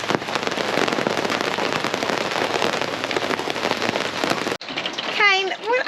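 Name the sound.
storm outside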